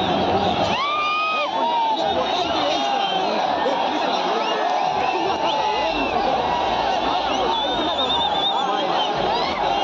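A huge crowd roars and cheers at the RCB victory celebrations in Bengaluru while awaiting the team's parade bus. Dense, continuous shouting, whoops and whistles sound close and loud with no letup.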